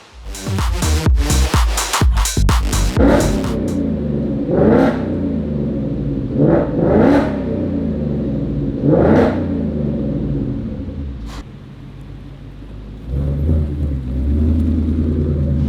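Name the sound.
revving engine with a muffler delete exhaust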